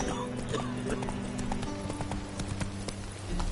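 Roach the horse galloping in The Witcher 3, rapid rhythmic hoofbeats pounding steadily over game music and ambience while a voice speaks over the action.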